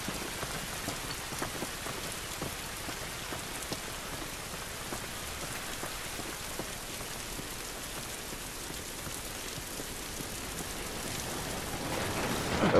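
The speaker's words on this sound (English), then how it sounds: "This rain ain't gonna do us any good" Steady rain falling in The Last of Us video game, a dense, even hiss of drops pattering on surfaces throughout, close and constant with no voices.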